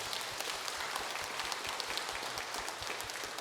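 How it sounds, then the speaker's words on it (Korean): Church congregation applauding during a Sunday sermon, a dense, even patter of many hands clapping together, sustained and moderately loud throughout. "한번 박수 한번 보내주세요"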